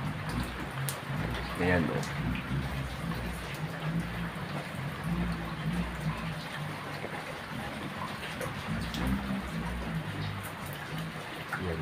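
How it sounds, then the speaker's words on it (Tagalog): Steady rain falls outside a house under strong wind, a dense continuous wash of drops and rushing air at close range, with someone talking over it now and then. "Medyo humpang na konti ang ulan, pero napakalakas ng hangin sa taas."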